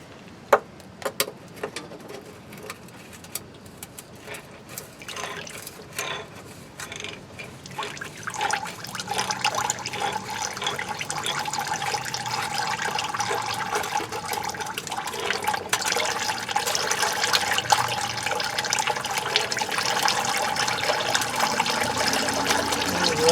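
Transmission fluid draining from a 1979 Chevy K20 into a drain pan, beginning as scattered drips and clicks and building into a steady, close trickling pour.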